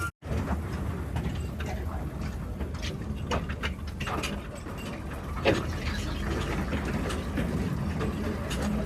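A mine trolley engine running on a railway ride, a continuous low chugging rumble with rattling, clanking mechanical ticks and occasional metallic knocks throughout.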